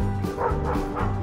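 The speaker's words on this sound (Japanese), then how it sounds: "ワンちゃんがいますね" A dog giving short yapping barks and whiny yips close by, in a rock-climbing setting, continuous over a brief moment.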